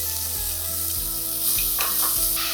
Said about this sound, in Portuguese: Coloca o óleo, o alho e agora a gente vai refogar.